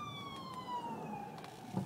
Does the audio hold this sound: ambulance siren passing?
yes